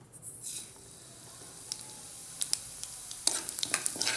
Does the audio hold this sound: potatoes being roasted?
yes